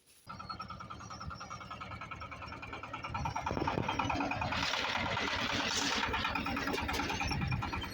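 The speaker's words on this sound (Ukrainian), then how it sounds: "заводимо трактор і пішли сіяти" A tractor engine starts up and settles into a steady, loud rumble before field sowing, the running noise building and holding at a constant level with no talk.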